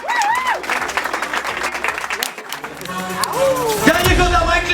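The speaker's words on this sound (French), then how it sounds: "vous pouvez vous applaudir, public magnifique" Audience at a Golden Break League breaking dance battle final applauding and cheering, a dense crowd sound with whistles and voices under someone talking over a PA.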